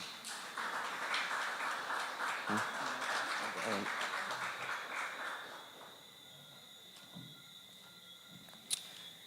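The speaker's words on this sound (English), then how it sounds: "Ladies and gentlemen, a round of applause for Ms. Cherry-Ann St." An audience at a community awards ceremony applauds in a broad wash of clapping that swells, holds for several seconds, then fades away, with some speech around it.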